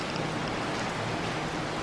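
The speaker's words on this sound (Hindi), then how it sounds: "बारिश, तेज हो रही है।" Heavy rain falls steadily in Sialkot, a dense, even hiss of drops that stays constant for a brief moment with no voices.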